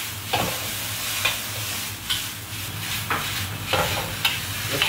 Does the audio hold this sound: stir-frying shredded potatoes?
yes